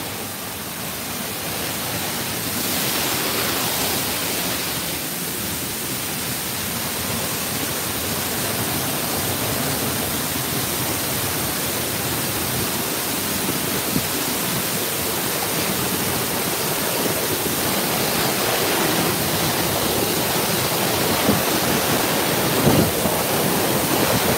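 Steady, dense rush of falling water at Mala Arbhi Falls fills the whole clip, a broad continuous roar with no voices, like standing close to a waterfall.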